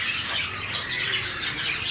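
A cream cockatiel at a Sunday bird market gives harsh, continuous squawking, with other birds chattering around it, close and fairly loud.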